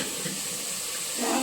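Tap water runs steadily into a kitchen sink while steel tumblers are washed, a constant close hiss that swells slightly louder at the end.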